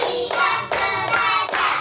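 A classroom group performs a counted clapping routine during a teaching practice lesson, producing four loud, unified claps in an even rhythm, close and clear.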